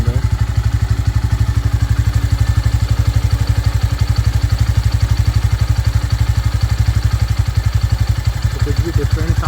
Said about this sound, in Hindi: जो इंजन में जो साउंड आता है ना, वो ही साउंड आ रहा है, जैसे कि आप सुन रहे हो।